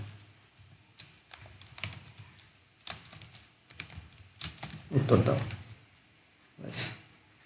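Computer keyboard typing comes in irregular bursts of close, clicky keystrokes, with a heavier cluster of presses later on and a final sharp tap, while a person speaks between them.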